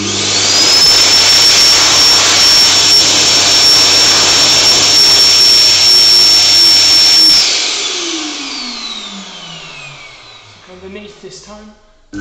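A WorldDryer Airforce hand dryer roars at full blast with a loud, steady high-pitched whine for about seven seconds, then cuts off and spins down, its tone falling away into near silence.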